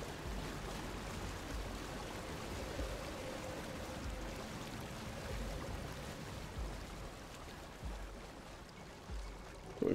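Waterfall water in the video game Tunic gives a soft, steady rushing wash that stays even and fairly faint throughout, with no voices.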